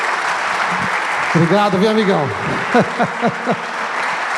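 A church congregation at a men's gathering applauds with a dense wash of clapping throughout, while a voice speaks briefly over the applause.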